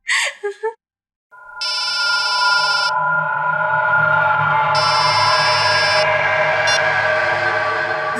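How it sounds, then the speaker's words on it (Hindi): A phone rings in repeated electronic trills, two long bursts separated by a pause, over a steady background hum. "मैडम, आपका फोन बज रहा है।"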